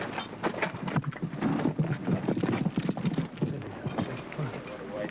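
Horses trot steadily on an endurance ride in outback Australia, hooves clopping in a continuous rhythm under wind noise, with a horse whinnying and a voice faintly mixed in.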